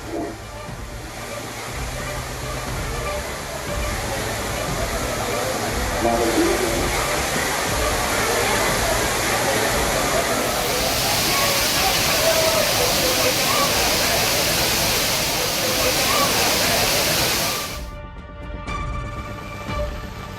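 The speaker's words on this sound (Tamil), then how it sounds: "ஏராளமான சுற்றுலா பயணிகள் அருவியில் உற்சாகமாக குளித்து மகிழ்ந்தனர்" A waterfall where crowds of tourists bathe after heavy rain: a loud, steady broadband rush of falling water with a busy crowd murmur underneath, holding for most of the time before dropping off sharply near the end.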